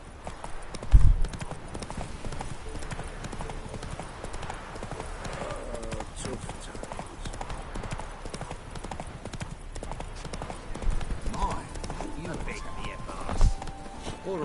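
Roach the horse gallops in The Witcher 3, rhythmic hooves clip-clopping steadily over terrain amid game ambience, with a voice speaking partway through.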